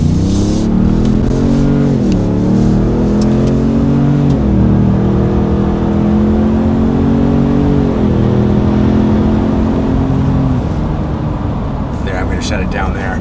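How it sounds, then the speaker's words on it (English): A Ford EcoBoost truck's exhaust roars loudly up close, its engine note rising and dipping through several revs under acceleration, with a brief higher whir near the end. "Let's put our foot into it and let you guys hear it with a little bit of acceleration."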